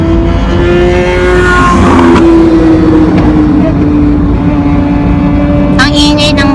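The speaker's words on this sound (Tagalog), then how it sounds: "Ang ingay ng motor" A loud engine droning steadily close by with a persistent tonal hum throughout, heard from inside or near a vehicle, with a brief higher burst near the end.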